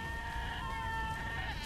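Sheep bleat in the side-scrolling video game Albert & Otto, a single sustained wavering cry at moderate level over a low background rumble, without speech.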